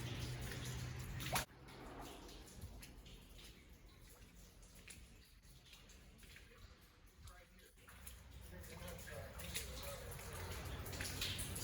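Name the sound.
water flowing and dripping down from a creek tunnel above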